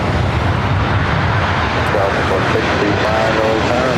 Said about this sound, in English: Also have Southwest Airlines flight coming in from Chicago Midway, flight 1872, 737-700.